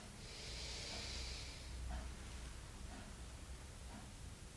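A slow, deep inhale during a wrist mobility exercise rises as a soft breathy rush, followed by quieter airy breaths. The sound is faint and close.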